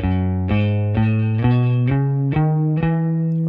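An electric guitar climbs a major scale note by note, each pick attack clear and evenly spaced, sustained and slightly effected, with no voices.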